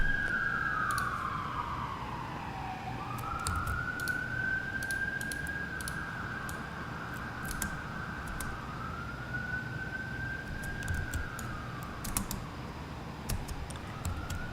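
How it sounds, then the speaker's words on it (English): A wailing emergency siren rises and falls as it passes by outside, loud and steady for its whole length, with light clicking like keyboard typing scattered on top. "Hang on, there's sirens."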